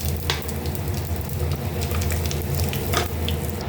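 Two dried red chillies and Bengali five-spice crackle and sizzle in two spoons of hot oil in a pan, a dense, steady frying hiss with scattered sharp pops close by.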